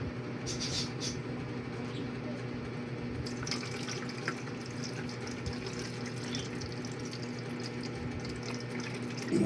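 A tap runs steadily into a sink with a continuous splashing hiss that holds for several seconds, close by and fairly loud, with a faint low hum underneath.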